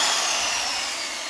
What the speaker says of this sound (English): You can see that the circular saws plugged in, don't have any problems cutting the board.